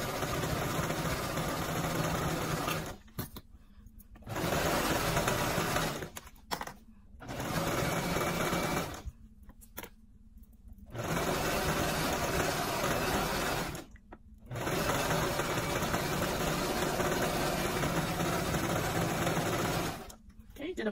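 A sewing machine stitches and back stitches stretchy African Ankara fabric for a slouchy hat. It runs close in long, loud bursts with short silent gaps between them.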